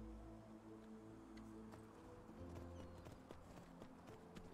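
Horse hooves clip-clopping in the Enderal video game, a quick string of close, crisp hoofbeats with game ambience humming underneath and no talking.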